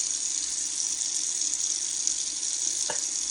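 Tap water runs steadily into a kitchen sink to rinse a big, fat whole hen for chicken and dumplings, a constant close hiss of flowing water with no talk over it.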